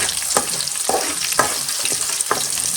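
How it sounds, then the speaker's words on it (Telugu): Close, steady sizzle of garlic frying in oil for a sambar tempering, broken by several scraping stirs at irregular intervals. "ఈ ఎల్లుల్లిపాయలు కూడా చక్కగా వేగనివ్వాలి"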